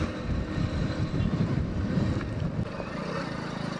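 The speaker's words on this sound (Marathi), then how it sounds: "पाऊस लय रे भाऊ, लय पाऊस आहे इकडे" Heavy monsoon rain and gusting wind on a mountain ghat road make a dense, continuous rushing wash with low buffeting rumble. It sounds close and fairly loud throughout, with no voices.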